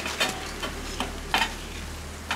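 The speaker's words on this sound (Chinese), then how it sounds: "现在大火炒啊" Bamboo shoots and pork intestines with bay leaves and a splash of baijiu stir-fried over high heat in a wok, a steady sizzle broken by several sharp scraping strokes of the spatula, close and unaccompanied by talk.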